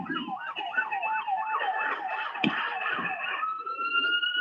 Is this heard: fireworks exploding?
no